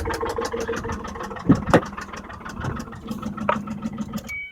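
Motor engine running unevenly at close range, a rough mid-pitched idle with a couple of louder bursts and clanks before it cuts off at the end; no talking.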